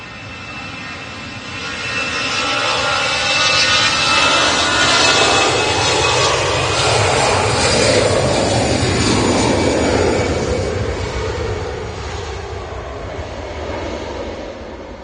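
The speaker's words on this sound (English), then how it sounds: "It's EasyJet's off to Geneva" An EasyJet airliner takes off from Manchester Airport in stormy, windy weather, its jet engines building to a loud, broad roar that holds steady and then slowly fades as it climbs away.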